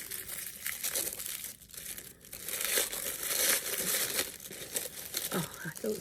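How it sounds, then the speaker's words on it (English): Crinkling wrapping paper around a package of rose French soap, close crackly rustling and tearing that rises and falls in bursts over several seconds, with no talking. "I'll try not to talk while I'm unwrapping because of the noise"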